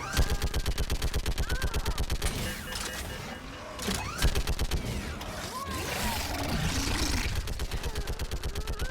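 Rapid automatic gunfire in the video game Mass Effect 3, sustained machine-gun bursts with steady rhythmic shots, a short pause mid-clip amid combat noise, then firing resumes loudly.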